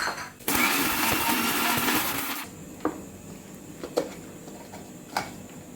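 An electric spice grinder whirs loudly as it grinds spices in a small jar, a steady high-pitched buzzing burst of about two seconds that stops abruptly, followed by a few faint clicks and taps.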